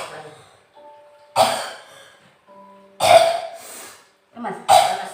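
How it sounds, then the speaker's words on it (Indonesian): Forceful coughs from a woman pushing during childbirth, three loud bursts with brief voiced tones and quiet gaps between them, close to the microphone. "Batuk lagi ya, batuk."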